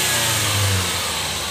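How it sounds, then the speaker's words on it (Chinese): Car engine revving up with a turbocharger blow-off valve leaking air, a loud close mid-pitched engine note with a steady breathy hiss over it, easing slightly as the revs drop, no talking. "漏气的声音哈"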